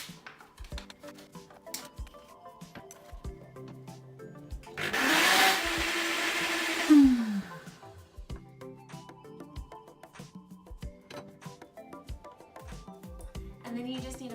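A blender whirs loudly through a short burst of frozen bananas and water for a smoothie bowl, its motor pitch dropping as it winds down, set between stretches of light kitchen sounds and background music.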